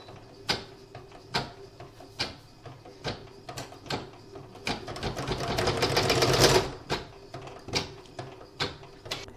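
A sewing machine stitches around the edge of fabric, its motor whirring in short bursts with clicks between runs and one longer, rising stretch of steady stitching near the middle, close and fairly loud with no talking.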